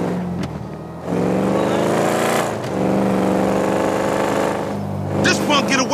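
A motorcycle engine in GTA 5 hums and surges steadily beneath a voice, rising into a louder rev near the end, with talk continuing over most of the clip.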